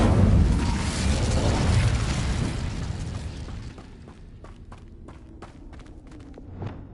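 A fire spell blast in the Hogwarts Legacy video game, a loud roaring burst of flame that gradually fades, followed by a series of sharp clicks and light footsteps, then a small thump.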